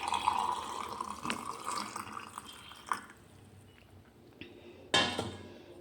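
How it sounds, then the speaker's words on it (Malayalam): Cooled boiled warm water is poured into a gooseberry pickle. A trickling stream runs for a few seconds, then come quieter drips and a couple of sharp clinks from the container, with no talking. "ഇത് നമ്മൾ തിളപ്പിച്ചാർച്ച വെള്ളം ചെറിയ ചൂടുവെള്ളം അതിനകത്തോട്ട് ഒന്നിട്ട് കൊടുക്കാം"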